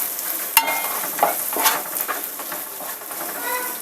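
A spoon stirs yogurt into softened, cooking tomatoes for egg pulao, a steady close sizzle with soft wet scraping and one sharp clink of metal against the pan.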